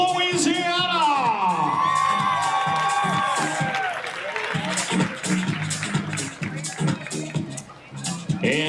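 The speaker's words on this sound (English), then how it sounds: "And keep your applause coming for Sterlington." Crowd applause and cheering at a Babe Ruth All Stars baseball opening ceremony as a 12-year-old team from Sterlington, Louisiana is welcomed, a sustained wash of clapping and whoops under an announcer's amplified voice.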